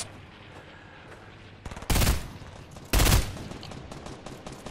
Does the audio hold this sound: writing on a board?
no